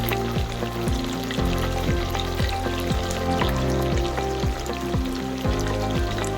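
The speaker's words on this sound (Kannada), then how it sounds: "ಚೆನ್ನಾಗಿ ಬೇಯ್ತಾ ಇದೆ ಮಟನ್ನು ಲೈಟಾಗಿ ಎಣ್ಣೆ ಕೂಡ ಬಿಟ್ಟಿದೆ" Mutton curry cooking in oil in a North Karnataka village-style pot, a steady low bubbling and simmering with soft repeated pops, close and continuous without talk.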